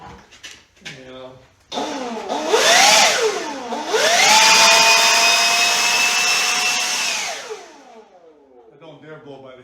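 A DeWalt 60V DCBL772X1 cordless leaf blower, running on a part-charged battery, spins up into a loud, steady whining rush for several seconds, then winds down, with someone talking before and after.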